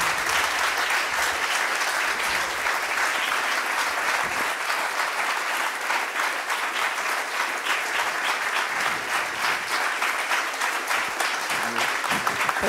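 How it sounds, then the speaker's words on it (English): Sustained audience applause at a panel forum on media and religion, dense steady clapping filling the room throughout with no speech over it. "A round of applause."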